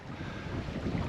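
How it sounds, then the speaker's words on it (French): Wind rushes steadily over a sailing yacht, an Océanis 393, under sail on a beam reach in about 11 knots of breeze, a loud continuous roar with water noise beneath it and no talking. "Le vent est légèrement remonté."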